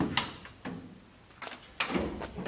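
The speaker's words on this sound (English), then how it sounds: "I'll open them and close them." A large metal barn-style sliding door rumbles along its track, with a few knocks and a heavy thud as it slides and settles, close by.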